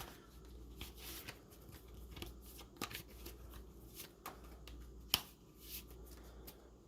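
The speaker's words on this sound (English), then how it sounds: "Shuffle your deck here." Tarot cards being shuffled by hand, a steady run of soft riffling and slapping with occasional sharper snaps, close and fairly quiet, with no talking.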